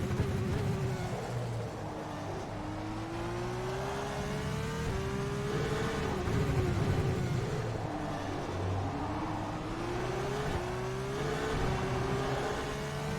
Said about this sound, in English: Car sounds pretty similar to this year's Formula 2 car